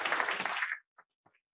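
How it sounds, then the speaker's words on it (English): An audience at a business event on AI gives a short burst of applause for the MC that cuts off abruptly after under a second, followed by quiet with a couple of tiny stray sounds. "a big round of applause for Will,"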